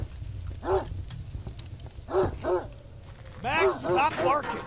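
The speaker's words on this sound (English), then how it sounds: "stop barking!" A dog in the horror game The Gray Hill Incident barks in a handful of close, loud yaps. Single barks come first, then a quicker flurry near the end, over a low ambient hum.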